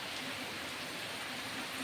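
Rain falls steadily outdoors as a dense, even hiss that holds at the same level throughout, with no voices.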